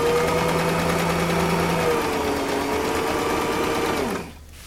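A sewing machine stitches fabric for a homemade dog toy, a loud, steady mechanical whir with a faint tonal hum that slows and stops near the end, leaving quiet.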